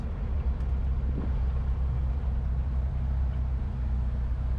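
A YJ Jeep fitted with a VW TDI diesel engine drives along, its steady low engine drone and road rumble filling the cab without a break, loud and close, with no talking.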